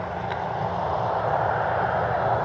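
A Delta Connection regional jet taxiing out at Cleveland Hopkins airport gives a steady, broad engine roar that holds at an even level for the whole stretch, with no voices over it.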